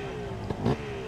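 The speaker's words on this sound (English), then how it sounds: "Two-stroke zinging." A brief, buzzy two-stroke motorcycle engine rev at a Harley-Davidson hill climb rises twice over a steady background drone, the second burst louder and a little longer.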